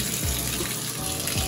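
Water runs steadily from a shower as someone gets ready for the night, a continuous close hiss of spray and splashing that fills the clip with no talk over it.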